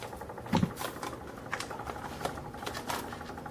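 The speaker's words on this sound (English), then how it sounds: "My machine has a little skip" A crafting machine turns a glitter-filled mason jar with a soft mechanical whir, broken by irregular ticking clicks where it skips, quiet and close.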